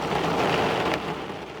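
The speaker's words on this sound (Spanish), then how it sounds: "El sonido de la lluvia comenzó a ser mucho más fuerte." Heavy storm rain drums steadily on an aircraft fuselage, a loud, dense wash of noise with a brief sharper burst near the middle.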